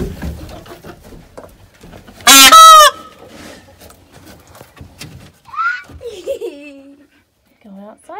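Newly released peacocks on a farm give a loud, harsh call burst near the middle, followed by a few shorter, fainter cries. A person talks intermittently throughout.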